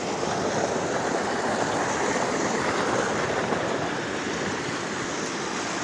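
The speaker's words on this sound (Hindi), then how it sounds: "ये देखो, मेड़ के ऊपर से जा रहा है पानी।" Floodwater rushes continuously over a field and over its raised earth boundary, a dense, steady roar of flowing water with no pauses.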